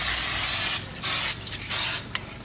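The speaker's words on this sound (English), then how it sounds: "I'm just going to spray it with some cooking oil just so it won't stick." Cooking oil sprayed into a lasagna pan, coating the bottom and sides in three separate bursts of close, loud hissing spray with short pauses between them.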